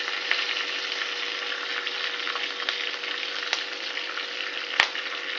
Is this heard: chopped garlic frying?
yes